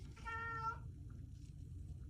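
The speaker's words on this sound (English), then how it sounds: "My kitty cat says hello." A cat gives one clear, close meow lasting about half a second over a low background hum in a quiet room.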